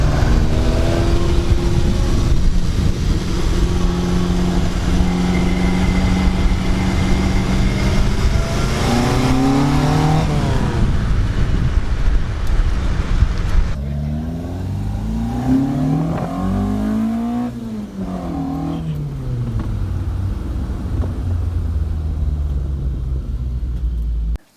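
Datsun 1000 coupe with an A15 engine revving hard and close, rising and falling through several loud sweeps with a rough rumble, then a lower swell and further revs before cutting off.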